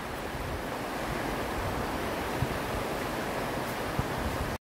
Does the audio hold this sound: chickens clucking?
no